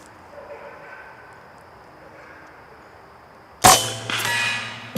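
A single sharp crack from an Air Force .25 caliber (6.35mm) PCP air rifle shot at a block, loud and close after a quiet stretch, followed by a brief ringing tail.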